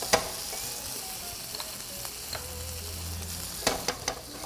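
A spoonful of butter sizzling in a hot pan alongside a hamburger patty, a soft steady crackle close by with a few sharper spatula clicks and taps scattered through, especially toward the end.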